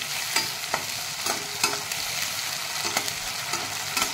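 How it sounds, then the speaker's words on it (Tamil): Tomato, ginger and garlic sautéed in oil give a close, steady sizzle with repeated sharp stirring scrapes at irregular intervals, no voices over it. "சேர்த்துட்டு நல்லா வதக்கிக்குங்க."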